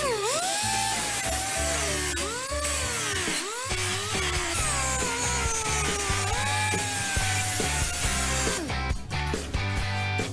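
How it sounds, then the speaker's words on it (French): Grinder wearing down weld spots on the steel floor of a Renault 4L, a loud continuous whine whose pitch repeatedly dips and climbs as the disc bites into the metal, running the full length without speech. "il faut encore meuler tous les points de soudure"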